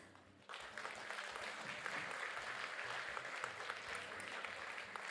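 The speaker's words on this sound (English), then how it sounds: "Please give a big round of applause to show your appreciation." An audience at a science prize symposium opening ceremony breaks into applause after a short quiet moment, a steady, fairly distant wash of clapping that holds evenly to the end without voices.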